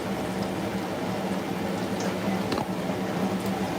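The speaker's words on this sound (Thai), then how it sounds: "เราจะลวกเส้นก่อน" Wide rice noodles blanch in a pot of boiling water for Syrian-style rad na noodles, giving a steady loud bubbling rumble with faint splashes and clinks throughout.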